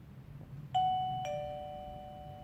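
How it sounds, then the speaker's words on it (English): A smart video doorbell sounds its basic two-tone ding-dong chime, a clear bright first tone followed by a lower second tone that rings out and slowly decays over a quiet room background. "So just the basic ding dong sound."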